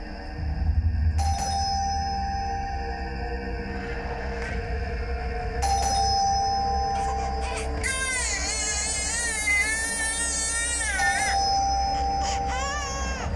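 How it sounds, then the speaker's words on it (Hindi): Electronic doorbell chimes ring out repeatedly over a steady hum, mixed with a wailing, crying-like warble partway through. "कब से घंटी बज रहा है, सुनाई नहीं दे रहा है क्या?"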